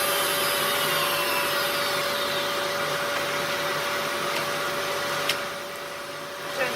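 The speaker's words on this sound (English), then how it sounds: "Turn the vacuum cleaner off." Vacuum cleaner running during leather skiving work with a Dremel, a loud continuous whooshing drone that holds steady throughout, with a couple of small knocks near the end.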